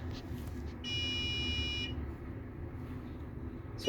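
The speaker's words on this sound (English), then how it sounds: "So it does a few beeps to let you know that it's done" An Elegoo Mars 4 3D printer gives a single high electronic buzz-beep for about a second as its print finishes, over a low mechanical hum, then fades back to quiet background noise.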